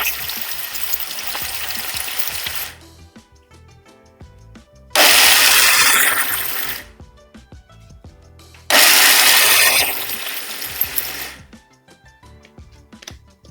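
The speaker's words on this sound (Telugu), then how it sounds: "ఇప్పుడు మిక్సీ ఆన్ చేసుకోవాలి" A mixer grinder grinds spice powder, whirring loudly in three bursts, each running a couple of seconds, separated by quieter gaps with clinks and rattling of the jar.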